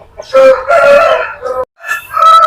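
A Pettamaru rooster crows loudly and close by, a strained multi-part call broken by a brief pause, then resuming.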